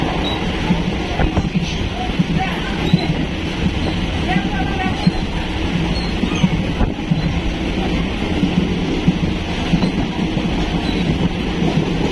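Steady, loud rumbling and rattling of a moving train carriage throughout, with people chatting and shouting over the noise.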